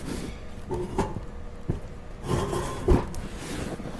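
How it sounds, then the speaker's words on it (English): Metal latches on a powder coating oven door being worked open, a few scattered clunks and rattles with light scraping between them, close by and moderately loud, no voices. "Okay, so this oven door has 3 latches."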